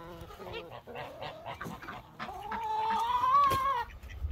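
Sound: chickens clucking

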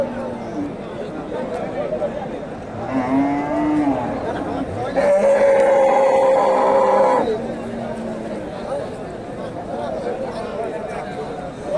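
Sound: cattle mooing at a cattle market

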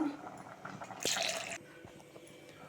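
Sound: pouring a little water

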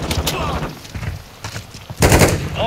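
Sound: gunfire in Call of Duty Modern Warfare 2 video game

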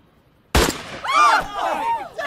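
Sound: gunshot

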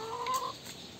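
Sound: rooster clucking

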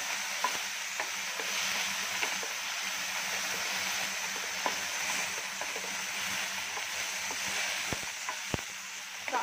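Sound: moong cheela filling with paneer stirred and cooked in a pan

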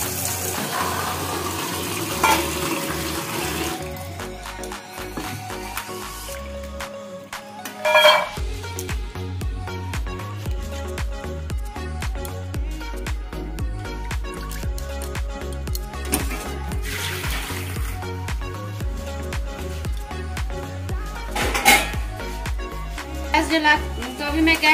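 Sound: washing peas under running water

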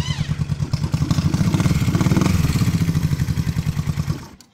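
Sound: 1970 Honda CB350 motorcycle engine starting

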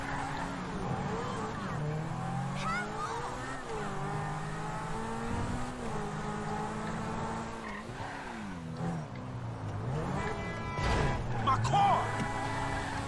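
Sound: yellow Lamborghini car driving in the video game Grand Theft Auto 5

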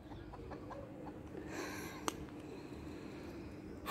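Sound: chicken clucking

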